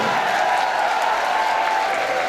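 Sustained audience applause at a Punjabi culture day studio event, a dense steady clatter of many hands clapping that stays loud and even throughout.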